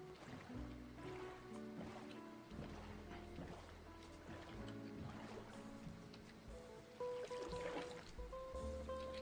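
Boat gliding across water in Minecraft, a steady watery rush with splashing under layered tonal game music, continuous and fairly loud throughout.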